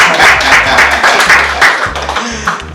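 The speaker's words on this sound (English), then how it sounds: "That's where you clap." An audience applauds at a graduation summit, a dense wash of clapping that stays loud and steady throughout, with low thumps underneath.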